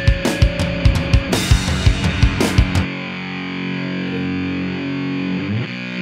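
Bass played through a Devi Ever fuzz pedal with the noise switch on and pre-gain turned way up: a run of rhythmic, heavily distorted plucked notes, then a sustained buzzing fuzz tone that holds loud and alone.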